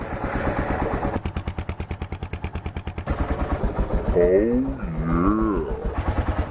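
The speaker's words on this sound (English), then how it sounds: "Sounds like the motorcycle's gonna work." A motorcycle engine runs on the road after its carburetor was taken off and repaired, with a steady pulsing putter that loud wind rush masks for stretches; someone speaks briefly over it.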